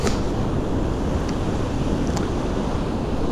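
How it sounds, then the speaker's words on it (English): Wind and ocean surf on the beach at Vignola a Mare, Sardinia: a loud, continuous roar of waves, heavily buffeted by wind hitting the microphone. "Ah, this one with the waves."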